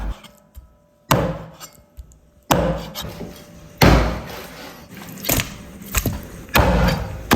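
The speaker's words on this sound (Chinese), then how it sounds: "鱼骨剁成小块儿。" Sharp, heavy cleaver chops cut large black carp bones into small pieces on a board, one after another at an uneven pace, each a loud thud with a brief ring, close by.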